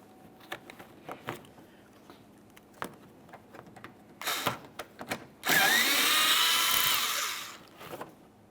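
A power tool spins out an 8mm bumper mounting bolt on a 2014-2018 Mazda 3 during grille replacement, one sustained close whirring burst of about a second and a half after scattered clicks and handling knocks, no talking.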